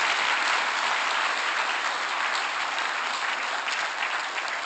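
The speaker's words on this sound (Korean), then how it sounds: "이러면 박수 치던데" An audience applauds at a lecture, giving a steady, dense clapping that stays loud and continuous throughout with no voices.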